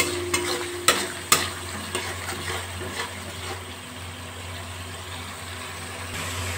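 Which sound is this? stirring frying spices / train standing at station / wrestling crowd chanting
stirring frying spices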